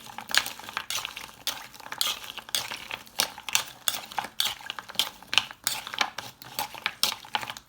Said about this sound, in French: Je vais mettre les frites là-dedans. On va les mélanger.